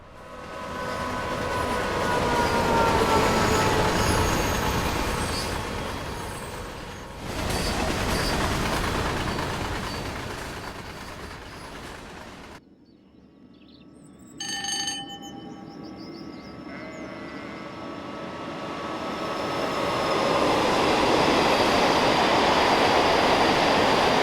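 A Class 86 electric locomotive in Train Sim World 5 rolls along with a loud continuous rumble and rail clatter, drops briefly quieter with a thin high whine, then builds back to a strong steady roar.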